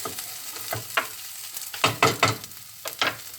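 Pineapple fried rice stir-fried in a wok, with a soft background sizzle and a few distinct scraping tosses of the spatula clustered near the end.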